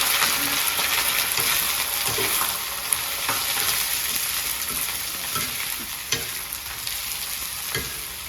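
Chopped onions fry steadily in a hot pan with browned garlic for a fenugreek-spinach kadhi, giving a continuous close sizzle with occasional stirring scrapes throughout.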